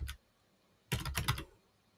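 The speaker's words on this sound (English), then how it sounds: "and then I'll type" Typing on a computer keyboard: a single key tap, a pause, then a quick close burst of several clicky keystrokes in a quiet room.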